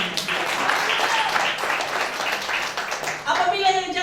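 Congregation applause at a Sunday church service, a steady wash of clapping across the whole stretch with some voices mixed in and a brighter tonal sound rising near the end.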